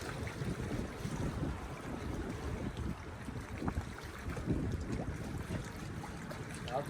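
Rough ocean waves churn and wash continuously with strong wind buffeting the microphone, a dense, steady roar without clear breaks.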